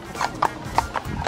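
A horse's hooves clip-clop in an even rhythm of about five close, crisp hits over a short stretch, near the Brandenburg Gate in Berlin.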